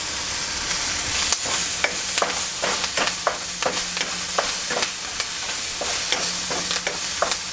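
Scallion whites dropped into a hot wok for a summer noodle dish, a steady loud sizzle and frying hiss with repeated clacks of stirring and tossing throughout, no voices.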